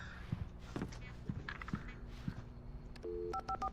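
In Alan Wake Remastered, footsteps tap across a floor before a phone is dialed, with a couple of short, clean electronic keypad tones near the end.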